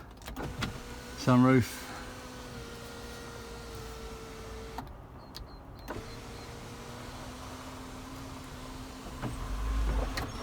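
The electric sunroof of a Land Rover Discovery 4 opens with a steady, low motor whine that runs for several seconds, pauses with a click, then resumes. It is heard inside the cabin with faint background noise.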